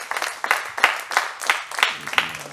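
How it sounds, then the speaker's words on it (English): A church congregation claps in several quick bursts, bright and close, each swell fading slightly before the next round of applause picks up. "Give the Lord a hand clap right there."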